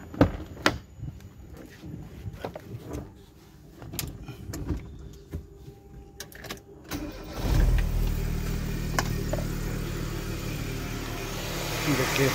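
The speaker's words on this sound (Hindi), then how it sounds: "अभी आपको दिखा रहा हूँ इसका शॉर्ट आउट करके स्टार्टिंग" A car engine is started by shorting the ignition wires: a few faint clicks and rattles, then the engine catches and settles into a steady, close idle.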